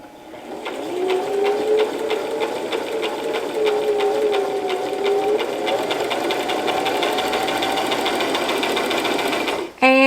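Brother LX3718 sewing machine stitching, a close, steady rapid needle rhythm with a whirring motor hum, running continuously for about ten seconds before stopping abruptly.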